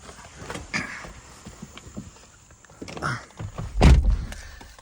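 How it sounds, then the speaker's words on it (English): The door of a 2013 Porsche Carrera Cabriolet swings shut with a solid, close thud, preceded by a few lighter clicks and handling knocks. "Close the door on this."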